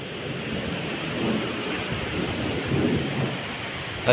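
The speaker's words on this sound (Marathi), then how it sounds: "हा बघा विजाचा आवाज येतोय" Thunder rumbles low and steady through a Konkan rainstorm with strong wind, heard from indoors. Rain hisses continuously beneath it, with no voices.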